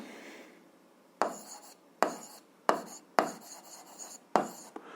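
Chalk or pen strokes writing out a seventh-grade algebra solution, heard as five or six scratchy bursts of varying length separated by short pauses, close and fairly quiet with no talking.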